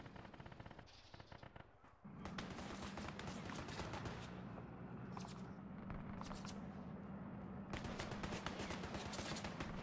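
Dense, sustained automatic gunfire from a war video game, starting with scattered shots and swelling after two seconds into a loud, continuous rattle of rapid bursts with no pause.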